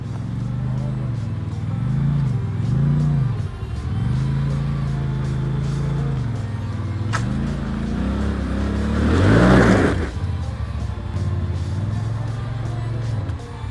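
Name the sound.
off-road vehicle engine revving at full throttle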